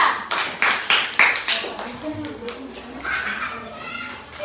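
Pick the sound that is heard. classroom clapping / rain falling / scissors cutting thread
classroom clapping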